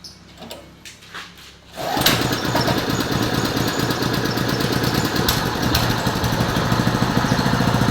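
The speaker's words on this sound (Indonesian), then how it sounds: "Oke, kita start. Gasnya nggak usah full dulu." A carpet spinner's small engine starts up after a few quiet clicks and pulls, then settles into a loud, steady, buzzing idle that runs on without a break.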